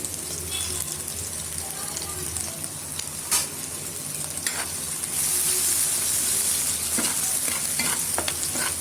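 Onion with turmeric, chili powder and salt frying in a pan, a continuous close sizzle with occasional stirring clicks, the hiss swelling louder toward the end.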